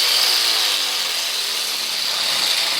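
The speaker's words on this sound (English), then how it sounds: "These wire wheels wreak havoc on these small angle grinders" A small angle grinder fitted with a wire wheel whines loudly and continuously at close range, running rough and unbalanced with a harsh, buzzing, gritty edge.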